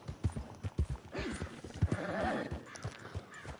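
Horses clip-clop on the ground in the western game Red Dead Redemption 2, a run of distinct hoof beats with an occasional whinny, fairly close and mixed with light background ambience.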